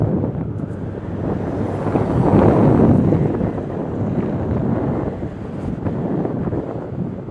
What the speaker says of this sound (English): It's like a warm breeze is the best way I can describe it.